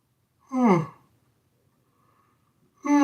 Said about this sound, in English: Oh man, sorry I'm yawning.